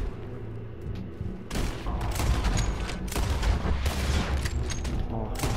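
Gunfire in the western video game Red Dead Redemption 2, loud close bursts of shots and booms packed together after a quieter opening, rumbling on without a break.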